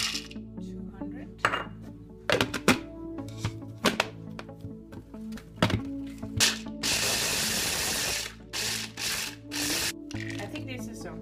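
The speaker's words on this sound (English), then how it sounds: "now we need to crush the almonds" Almonds for a whipped cream cake are crushed in a series of sharp, gritty crunching and scraping bursts close by, with a longer grinding stretch in the middle and brief pauses between strokes.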